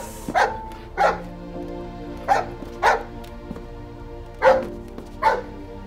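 A pet dog barks repeatedly in a tense indoor scene, sending out six loud, close single barks spaced about a second apart, some in quick pairs, over a low, steady room hum.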